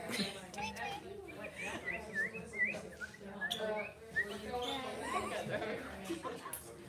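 Birds chirping indoors at a volleyball gym, quick repeated high tweets mixed in with voices and laughter nearby.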